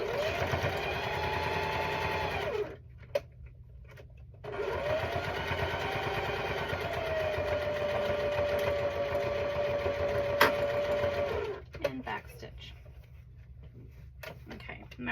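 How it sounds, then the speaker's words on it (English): A sewing machine stitches a quilt block with a fast, steady mechanical chatter. It runs in two long bursts split by a short pause and stops near the end. A voice speaks quietly under it. "now I'm just gonna go ahead and sew all the way until we get to our beginning stitch"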